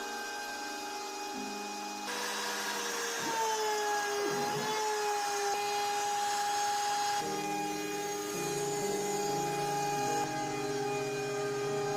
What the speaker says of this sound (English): I lowered the router 4 times to cut through the 16mm MDF